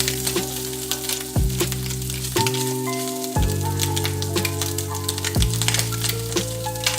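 Bacon and ham sizzling in a frying pan, a constant crackling spatter close by, with steady tonal hum from a kitchen appliance underneath.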